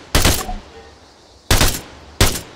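Three loud, close rifle shots from a soldier firing in ARMA 3, each a sharp crack with a brief ringing tail. The first two are spaced more than a second apart and the third follows quickly. No voices are heard.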